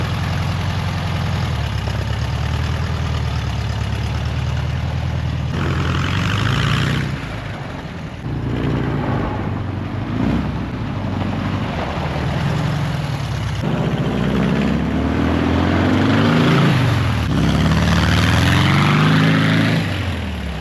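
The air-cooled engine of a 50-year-old VW dune buggy runs while it is driven in reverse, a steady, loud, close rumble with a few dips and surges in revs over about twenty seconds.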